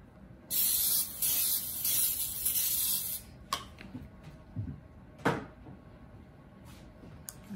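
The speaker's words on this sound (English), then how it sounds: "Make sure you spray it before you put the mixture in it." A steady aerosol cooking spray hisses for about three seconds onto a 9 by 13 baking dish, followed by a few scattered clicks and knocks of the can and dish being handled.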